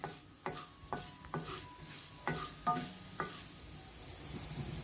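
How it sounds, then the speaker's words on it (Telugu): Urad dal fries in a little oil in a pan, a soft sizzle punctuated by about eight sharp spatula scrapes and taps against the pan at uneven intervals. "ముందు మినపప్పు వేసుకున్నాము. దీన్ని కొద్దిగా వేగనిద్దాం."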